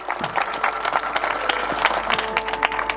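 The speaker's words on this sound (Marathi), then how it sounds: "टाळ्या वाजवा" Audience at a Marathi kirtan clapping together in dense, continuous applause that fills the room, fairly loud and steady throughout.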